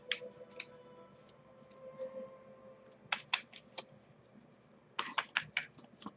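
Quiet papery flicks and soft rapid clicks in short bursts, tarot cards riffled and tapped together at close range, with pauses between shuffles.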